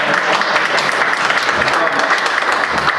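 Steady applause from a crowd, dense continuous clapping throughout, fairly close and loud.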